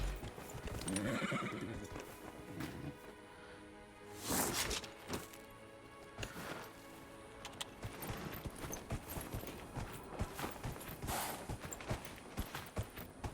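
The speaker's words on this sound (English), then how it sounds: "so I'm calling my damn horse." A horse whinnies loudly and hooves clip-clop in Dragon Age: Inquisition as the mount is summoned in the vast Western Approach desert, with a music score playing throughout and a sharp burst of activity near the middle.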